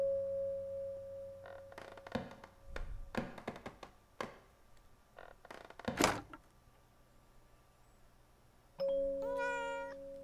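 A cat in the horror game Layers of Fear: Inheritance meows in a long, rising cry amid scattered taps and knocks, with a steady electronic sine tone humming before and after.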